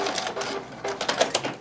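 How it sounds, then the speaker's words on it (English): A sewing machine back stitching a quilt binding makes short bursts of rapid mechanical stitching, stopping and starting, close and fairly quiet. "back stitch at a slight angle, forward stitch just a little bit, cut it."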